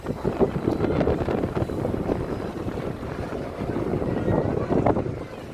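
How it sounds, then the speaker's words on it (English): Gusty wind buffets the microphone high up on a big wheel at an amusement park, with low rumbling that rises and falls unevenly and swells near the end. No one speaks. "it's going to be a bit windy up here because we've come on the big wheel"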